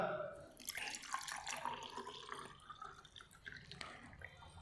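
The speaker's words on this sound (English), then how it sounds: "Now take the water and pour in the glass tumbler." Water poured into a glass tumbler for a refraction demonstration, a steady splashing trickle with drips, fairly close and continuous throughout.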